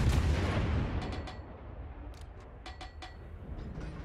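Warship guns firing in World of Warships during a fight against a Stalingrad, with a heavy low boom at the start and a series of sharp cracks spread through a rumbling, distant-sounding battle din.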